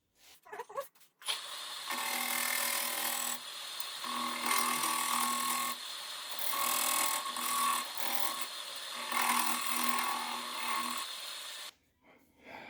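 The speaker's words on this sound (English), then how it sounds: "maybe I'll use that little scraper again" A small scraper cleaning out a repair, giving close, steady scraping and rubbing strokes that run for several seconds between brief pauses, with a few light knocks at the start and end.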